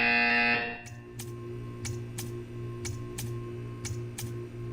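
An electronic buzzer in Portal 2 blares for under a second, then gives way to sharp paired ticks repeating at a steady pace over a low hum.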